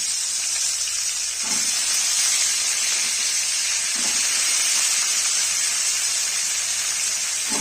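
Cauliflower florets fry in hot oil over a tempering of green chilies and radhuni seeds for a potato and fish curry, giving a loud, steady, continuous hiss that stays even throughout.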